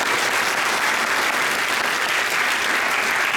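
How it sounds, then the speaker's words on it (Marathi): A large audience at a public lecture event applauds loudly and steadily, dense continuous clapping filling the whole stretch with no voices on top. "स्वतःसाठी जोरात टाळ्या वाजवतो"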